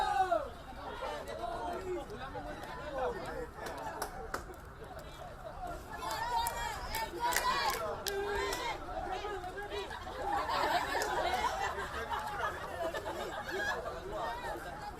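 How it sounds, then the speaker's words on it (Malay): Rugby crowd at Padang A, Universiti Putra Malaysia, cheering and chattering throughout a UPM versus UiTM match, a broad steady hubbub that swells in places, with talking in the crowd. "Begitulah sorakan-sorakan peminat-peminat rugby yang berada di Padang A Universiti Putra Malaysia ini"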